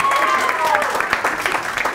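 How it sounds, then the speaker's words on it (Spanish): School quiz-show audience applauding, a dense, steady patter of clapping hands at close range, with voices calling out over it. "Bueno, pero aplaudidla que ha sacado."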